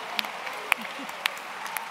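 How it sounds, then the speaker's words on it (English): Scattered applause from an audience at a political conversation event, a thin patter of claps with a few sharp louder ones, while a voice murmurs faintly underneath. "Applause for the men"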